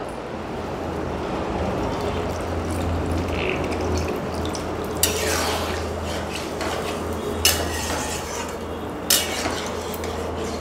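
Paneer pieces, drained from water, being stirred in a pan with a steady low rumble and a few sharp utensil clinks against the metal, no talking.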